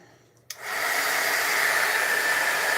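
A heat tool used for heat embossing in papercraft switches on with a click and then blows a loud, steady, close whoosh.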